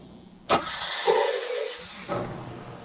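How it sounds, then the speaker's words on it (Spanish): A car engine cranks briefly with an abrupt start and a short surge, close and moderately loud, then a second brief burst, during a fuel injector pulse check. "Primero, observemos, dándole arranque al motor, si hay pulsaciones."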